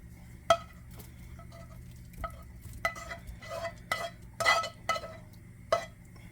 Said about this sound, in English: Now all you have to do is just mix everything together.